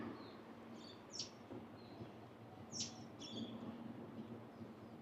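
A small bird chirps in short high bursts from a short distance in Innisfail, Australia, on a morning walk, several quick tweets scattered over faint outdoor background noise.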